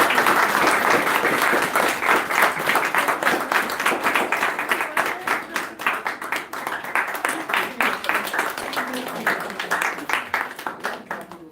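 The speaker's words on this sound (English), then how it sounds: "A big clap." Sustained applause from an audience at a community anniversary celebration as a prize winner is announced, dense clapping filling the room steadily and thinning slightly toward the end.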